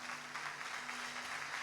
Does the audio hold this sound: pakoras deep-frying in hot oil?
no